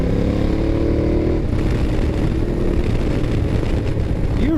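A 2012 Ducati Diavel motorcycle ridden in sport mode, its engine giving a steady loud rumble with wind noise, with a brief rising rev toward the end and no talk over it.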